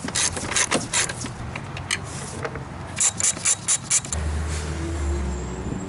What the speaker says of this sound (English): Take a 13mm on a long extension and remove the 2 hold down bolts.